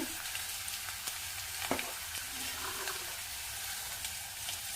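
Onions frying in a pan, heard as a faint, continuous sizzle with an occasional light clink or stir.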